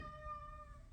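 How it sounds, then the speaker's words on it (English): A house cat gives one brief, faint, drawn-out meow, indoors in a kitchen, alone with no talk over it. "My cat's having a conversation with me"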